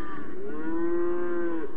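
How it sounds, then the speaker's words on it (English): A single cow gives one long, close moo that rises and then holds steady, with nothing else heard around it. "They'd be mooing, vocalizing, trying to let us know that they need some attention."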